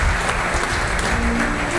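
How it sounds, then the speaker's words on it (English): A brief burst of loud, dense audience applause at an EFI advisory board gathering, full and continuous throughout. "So give a huge round of applause to Narendra."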